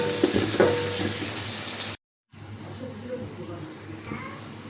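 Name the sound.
chopped ginger and garlic frying lightly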